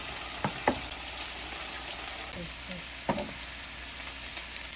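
Sliced onions sizzle in hot oil for refried beans, a steady faint fry broken by a few sharp clinks of stirring, with no talk.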